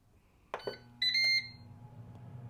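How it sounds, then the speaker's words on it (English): A few soft electronic beeps from an air fryer finishing its cycle, short and high-pitched, sound close by over a quiet low hum. "this just finished. It had the lightest of beeps."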